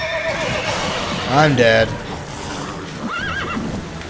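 A horse in The Witcher 3 neighs loudly for about half a second in the middle, a rising and falling whinny. Someone speaks excitedly before it, and game sounds run underneath.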